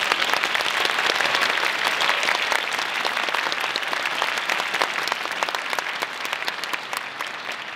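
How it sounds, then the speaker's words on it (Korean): Sustained applause from a hall audience at a 2018 POSTECH university entrance ceremony, welcoming the university president, with dense clapping that stays strong and slowly tapers toward the end. "큰 박수로 환영해 주시기 바랍니다."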